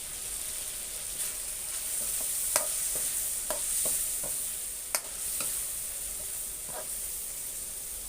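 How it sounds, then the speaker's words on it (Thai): Water added to a pan of chicken curry cooking in oil, which hisses and sizzles steadily at close range, with a few soft clinks and stirring knocks scattered over it. "น้ำมันแห้งไปเนาะแต่จะเติมน้ำลงไปอีกหน่อยนึง"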